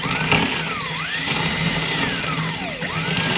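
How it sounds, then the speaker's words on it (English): A power drill whines steadily up close, its pitch dipping and rising as the motor slows and speeds up while it bores into a stucco wall. "you just push in and drill"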